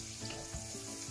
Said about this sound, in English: I'm going to throw in our pancetta. Just going to fry that off lightly for about 2 to 3 minutes